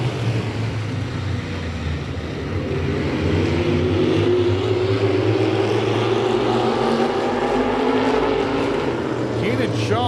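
Stock race cars roar past on a track during a night race, loud engine drone rising and sliding in pitch as cars pass close by, with a commentator talking over it.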